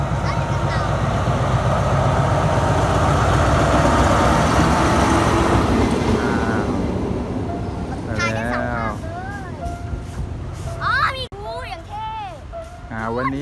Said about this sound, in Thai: มีอีกขบวนหนึ่งกำลังวิ่งมานะ